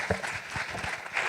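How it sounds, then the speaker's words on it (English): A short burst of audience applause for a panel of speakers at an entrepreneurs' funding summit, a brief, moderately loud patter of clapping from a crowd. "we can give them a round of applause"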